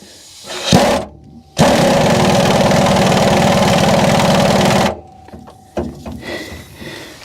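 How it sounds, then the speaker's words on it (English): An air ratchet drives a bolt on a 1971 Ford F350 being lowered: a short burst, then a loud, steady pneumatic whirring for about three seconds that cuts off sharply, followed by a few light metallic knocks. "we've got the ratchet on the top, or the air ratchet on the top still. So we'll just run this top one in with it."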